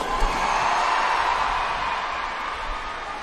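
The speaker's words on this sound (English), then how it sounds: "The crowd going absolutely wild for Adam Peaty and for James Wilby" A large swimming championship crowd roars loudly for Adam Peaty at the European Championships pool, a steady, dense wash of cheering that holds for a few seconds and slowly eases.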